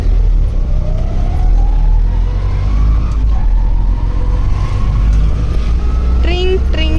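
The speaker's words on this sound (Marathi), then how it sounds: "रिक्षातून चाललाय" An auto rickshaw ride on a morning street, its engine a steady, close droning rumble throughout, with a brief horn-like tone near the end.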